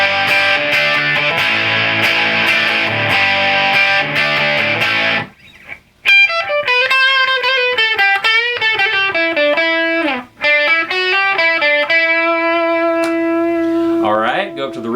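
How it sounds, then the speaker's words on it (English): Distorted electric guitar on the bridge pickup, played through an Acoustic Control Corp amp with a distortion pedal: dense chugging chords for five seconds, a short gap, then ringing sustained single-note lines and bends, loud and close. "Just gonna go ahead, throw a little dirt on it and see how it sounds."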